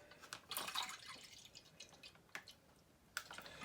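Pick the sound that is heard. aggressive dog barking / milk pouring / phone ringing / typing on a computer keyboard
milk pouring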